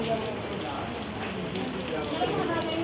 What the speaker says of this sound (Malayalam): പക്ഷെ ഇവിടെ ഇപ്പോൾ മഴയാണ്